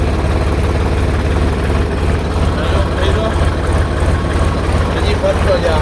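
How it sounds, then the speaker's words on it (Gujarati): An engine runs close by as oil climbs through it after starting, giving a loud, steady low rumble with a dense, even drone that holds throughout. "ઓઇલ ચડી જાય એટલે જોજો અવાજ પણ આનો ફરી જાય, કેમ કે આખા એન્જિનમાં ઓઇલ ફરવું"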